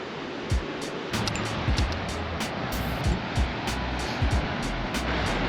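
Surf rolls in at Sandy Mouth Beach on the South West Coast Path, a steady wash of breaking waves heard from a distance with wind buffeting the microphone in bursts.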